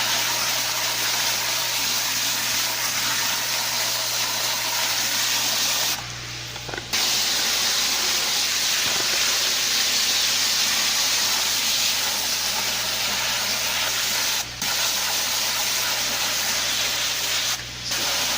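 A hose spray blasts the sides of DWC hydroponic containers with a loud, steady hiss, broken by a short pause and a couple of brief cut-outs, with no voices.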